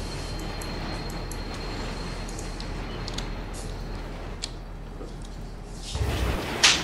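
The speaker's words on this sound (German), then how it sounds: "Also mein Zug macht schon Lärm." Train engine noise from a train simulator video game, a steady rumbling drone that runs loud and continuous throughout, swelling with a louder burst of clatter near the end.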